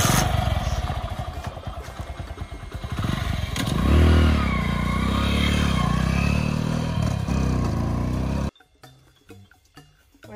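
A motorcycle engine runs loud and close for about eight seconds, with a low rumbling idle that swells as it revs and roars before cutting off abruptly, leaving near silence.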